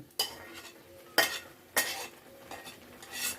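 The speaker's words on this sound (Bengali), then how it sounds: "এই দেখো এবার চিকেনগুলো ঢেলে দিলাম।" Chicken pieces, already fried, are tipped into a pan and stirred, producing several sharp scraping and clattering strokes of a utensil over a quiet sizzle, close by with no talking.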